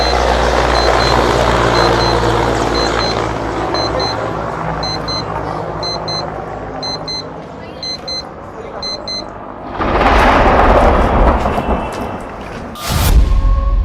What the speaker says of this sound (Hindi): कैसे 10वें सेकंड में धमाके की आवाज सुनाई देती है और फिर सब कुछ शांत हो जाता है।